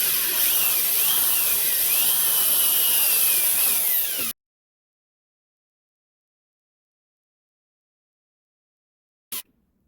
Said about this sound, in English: drill it out with a 1/8 bit.